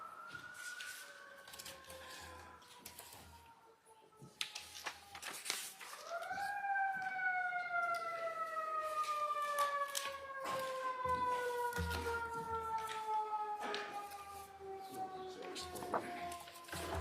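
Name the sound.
sirens going by outside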